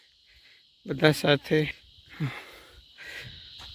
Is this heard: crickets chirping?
yes